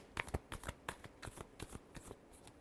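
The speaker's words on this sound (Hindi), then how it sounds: "Last shuffle." Tarot cards shuffled by hand in quick, crisp riffling bursts, a rapid series of papery flicks and slaps close by with no talking.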